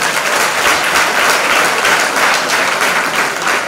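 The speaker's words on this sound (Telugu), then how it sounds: "పిల్లలందరి తరఫున క్లాప్స్ కొడుతూ" Students at a college awareness programme applaud together, a loud, dense and steady burst of clapping that holds without a break from start to finish.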